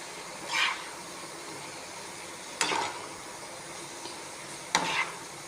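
Finely chopped cabbage, cut small for children, frying quietly in a pan for a cabbage omelette, with a soft steady sizzle and three short bursts of stirring scrapes spaced a couple of seconds apart.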